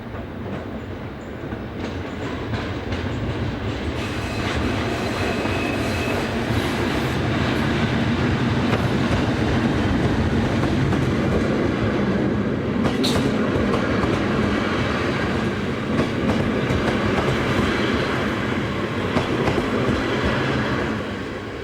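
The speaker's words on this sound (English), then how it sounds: "as 110-419 slows with the 1725 departure from Köln" A DB Class 110 electric locomotive, number 110-419, slows into Venlo with an evening train from Köln, its steady close rumble and rail clatter rising and holding loud with no voices.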